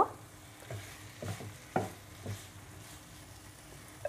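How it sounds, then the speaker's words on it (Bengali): Broken boiled potatoes are sautéed with spices, and a spoon scrapes and knocks against the pan in a few separate strokes over a faint, quiet sizzle, up close with no voices. "আলুগুলো আমি 2 মিনিটের মতো মশলার সাথে একটু কষিয়ে নিব"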